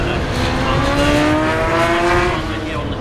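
750 Motor Club race cars at Silverstone roar past at close range, loud engines revving and shifting pitch as they go by, with a voice talking over the passing cars.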